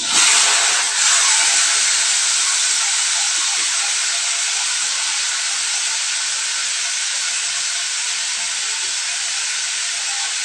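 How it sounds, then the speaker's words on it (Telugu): Tomatoes frying in hot oil in a pot for roti pachadi, giving a loud, steady, close hiss that flares at the start and then holds evenly, with no talking. "గిన్నెలో ఆయిల్ ఉంది, వేడైంది. మెల్లిగా టమాటాలు వేసుకోవాలి."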